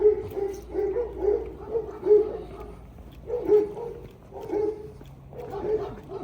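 A dog barks in short repeated bursts, several yaps in quick groups separated by brief pauses, close and clear with no talking.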